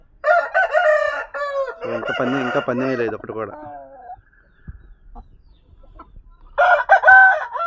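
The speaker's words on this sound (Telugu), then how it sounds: "ఇది మా సొంత కోడి పిల్ల, కోడి పచ్చకాకి పిల్ల" Young pachakaki rooster, a small fighting-breed chick, crowing and clucking up close in loud bursts at the start and again near the end, with a short spoken line over the quieter middle.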